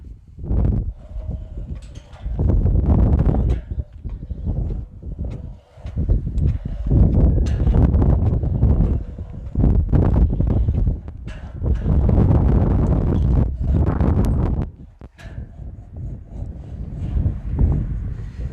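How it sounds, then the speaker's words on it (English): Gusty wind buffets the microphone high up on an outdoor ropes course in light rain, loud irregular rumbling bursts that rise and fall with brief lulls. "it's getting a little windier up here, a little bit rainier"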